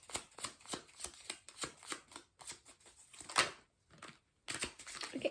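Tarot cards shuffled and drawn by hand, close and quiet: a run of soft riffling flutters and light slaps, a brief pause, then a few more card rustles.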